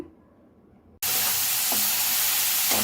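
Spices and masala frying in a hot pan with tomato, onion, coriander powder, ginger, turmeric and chilli powder, a sudden loud, dense sizzling hiss that starts abruptly and carries on steadily up close, with occasional stirring knocks.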